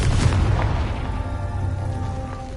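A Confringo spell explosion in the Hogwarts Legacy video game, a deep booming blast that decays into a low rumble with faint ringing tones, loud and alone.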